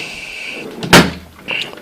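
A tool-cabinet drawer in a workshop slides and bumps shut with one sharp knock near the middle, plus lighter rattling before and after.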